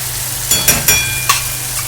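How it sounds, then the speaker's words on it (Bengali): Spice paste with white sesame and poppy seed paste fries in a pan for a vegetarian dhoka dalna, a close sizzle broken by four or five sharp spatula scrapes and taps. "এবার এই মশলাটাও সুন্দর করে আমরা কষে নেব।"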